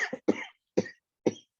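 Four sharp coughs in an uneven sequence, the first two close together and the last two spaced apart, close and fairly loud with silence between.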